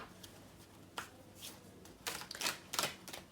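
Oracle cards being shuffled by hand, soft papery riffles and crisp flicks in a few quick bursts, close and quiet with no talking.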